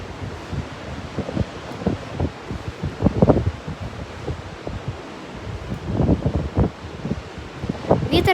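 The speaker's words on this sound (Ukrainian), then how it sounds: "Вітер капець сильний був." Strong gusts of wind blow beside a stormy sea, buffeting the microphone in uneven bursts of rumble and rustle, loud and close, with the surf's wash faintly beneath.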